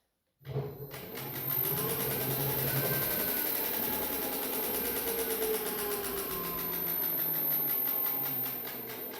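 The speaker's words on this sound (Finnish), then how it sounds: "tämä moottori pyörii väärään suuntaan" A QSMotor 2000W electric hub motor on a FarDriver ND72260 controller, spinning in the wrong direction, whirs up after a brief silence and keeps spinning steadily with a smooth electric hum and faint whine, close and continuous.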